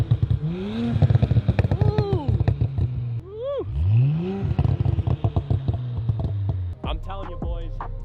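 Tuned Audi B9 S4 with Stage 1 ECU and Stage 2 transmission tune revving in short bursts, several sharp rising-and-falling engine sweeps over a throbbing idle, with people talking between the revs.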